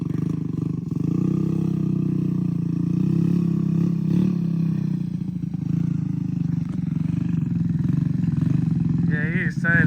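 A vehicle with a freshly swapped engine drives along, giving a steady, loud low engine drone and rumble throughout, with excited voices talking over it.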